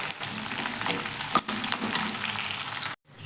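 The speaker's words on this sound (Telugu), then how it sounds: "ఒక అరకప్పు వెల్లుల్లిపాయలు, కొంచెం అంత కరివేపాకు బాగా పొడి లాగా అయ్యేటట్టు వేయించుకోవాలి" Garlic and curry leaves fry in hot oil for a mango pickle tempering, a loud, continuous close-up sizzle with brief stir pauses and a sudden cut near the end.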